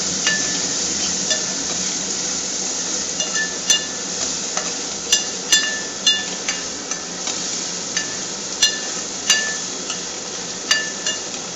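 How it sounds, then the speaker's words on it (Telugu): Fresh green peas frying in hot oil with a continuous bright sizzle, punctuated by sharp, regular taps and clinks of a utensil against the pan, close up and loud, no voices. "ఆయిల్లో ఫ్రై అవుతున్నాయి అనమాట ఫ్రెండ్స్"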